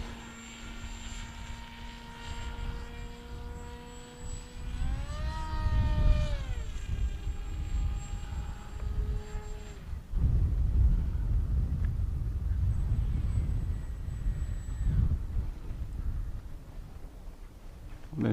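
A Bixler 2 foam RC plane motor whines steadily in flight, its pitch bending up and down through a loop before dropping away when the throttle cuts, leaving wind rush and a faint high tone.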